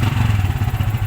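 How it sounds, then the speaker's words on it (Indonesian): A Yamaha Vixion motorcycle with a fault that will not rev up properly runs with a rapid, uneven low putter and clatter, loud and close, with no talk. "Coba kita hidupkan motornya."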